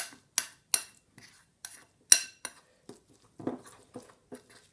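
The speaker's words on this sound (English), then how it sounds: "I'm going to stir, stir, stir." A utensil stirs a seasoning paste for fish in a bowl, giving a close series of sharp clinks and scrapes at an irregular pace, about a dozen taps with softer mushy mixing between, no talking.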